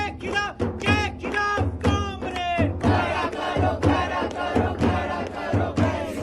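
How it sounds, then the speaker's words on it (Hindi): A large crowd of left-wing students at a JNU protest chants slogans in loud, rhythmic unison. The shouted call-and-response phrases repeat steadily and close by. "नारेबाजी के वक्त लेफ्ट विंग के छात्रों की भारी भीड़ थी"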